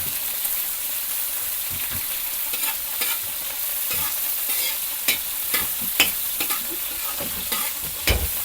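Onion, ginger and garlic sauté in a hot pan, a steady dense sizzle broken by a few sharp spoon scrapes and stirring knocks, close and alone with no talking.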